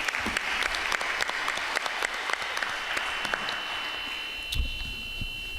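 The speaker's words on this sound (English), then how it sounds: "Another round of applause for the young people," Scattered applause at a Newark Public Schools Advisory Board meeting: sharp, separate handclaps in an uneven rhythm, fairly close, with a steady faint tone underneath and a few louder claps toward the end.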